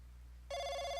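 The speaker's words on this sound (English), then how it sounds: "Who's calling at this time? I pick up the phone" A telephone bursts into a loud electronic ring halfway through, a steady bright tone sounding alone after a quiet start in an early-morning room.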